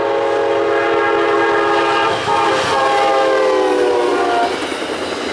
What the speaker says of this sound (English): Amtrak 49, the Lakeshore Limited from Alpine to Chicago, Illinois,